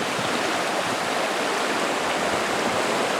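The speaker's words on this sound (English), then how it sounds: "I find the rushing sound of the water so peaceful and relaxing." A river rushes in a steady, dense roar of flowing water, close and constant throughout with no voices.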